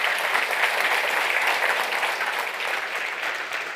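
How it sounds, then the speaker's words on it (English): An audience at a food industry conference claps in sustained, even applause that fades slightly toward the end, with no talking over it. "can we have a big round of applause"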